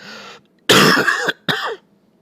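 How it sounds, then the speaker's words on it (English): Harsh hacking coughs from coal dust breathed in, in a tabletop horror game session: a faint throaty rasp, then two loud, close, rough coughing bursts, heard alone. "you inhale some coal dust, and you hack, and you cough"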